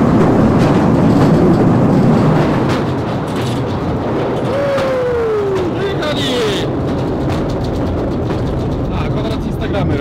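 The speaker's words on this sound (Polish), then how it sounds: "Zobacz, cały pociąg jest tylko dla nas." Tourist train in a gold mine rumbling steadily along with a continuous roar, faint rail squeal and clicks, while people talk over it.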